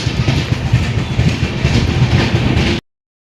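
The Tamil Express runs through Uluberia railway station, a loud, close, continuous rumble of railcars with rhythmic clickety-clack from the wheels that cuts off abruptly near the end.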